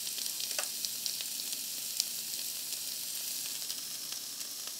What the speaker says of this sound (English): we let it cook for about 3 to 5 minutes until also the artichokes have browned a little bit